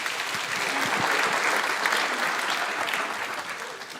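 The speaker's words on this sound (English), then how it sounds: "give him a round of applause" Audience applause at a church Christmas concert, a dense, lively burst of many hands clapping that swells, holds steady for a few seconds, then begins to taper off.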